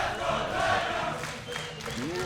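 A crowd at a Guilty Gear fighting game tournament cheers and roars in a continuous, dense wash of noise that swells and holds throughout.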